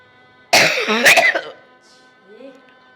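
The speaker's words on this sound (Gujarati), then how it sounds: "આજે ખાંસી શરદી બહુ થઈ ગયા છે" A harsh burst of coughing or throat clearing from a person with a cold, loud and close, lasting about a second, then quiet with faint background noise.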